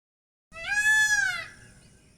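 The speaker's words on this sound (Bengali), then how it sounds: "ইঞ্জিনের স্টার্টটা অফ করে একটু ওয়েট করতেই ভেসে আসতে লাগলো ময়ূরের আওয়াজ।" A peacock calls once from fairly close in quiet hill country near Purulia after a BMW F900 GSA motorcycle's engine is switched off. The call is a loud, drawn-out cry lasting about a second that starts from silence and then fades.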